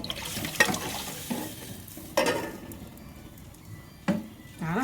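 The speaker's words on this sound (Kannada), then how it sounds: "ಆಮೇಲೆ ಒಟ್ಟು ಸಾರು ಹಾಕ್ಬಿಡ್ತೀನಿ" Rasam is poured into a hot tempering in a pan and stirred, a soft sizzle with scraping, clinking stirs that come in three sharper bursts over a low frying hiss, close and with no talk.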